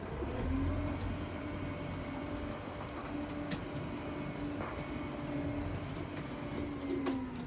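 A farm tractor creeps through a field gate with a steady, continuous engine drone and a low rumble that stays loud and close throughout, with faint clanks on top and no talking.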